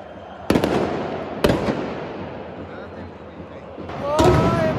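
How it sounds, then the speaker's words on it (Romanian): Loud booming fireworks inside a football stadium at the FCSB vs Rapid derby in Bucharest: a few sharp, echoing blasts spaced about a second apart, followed by a whistling rocket, over a steady crowd roar. "Artificii în stadion pentru prima dată."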